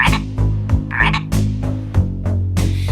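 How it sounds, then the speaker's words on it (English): A frog croaks in a steady series of deep, loud, resonant pulses, about eight calls in a few seconds, with no talking. "F is for frog, hopping all day long."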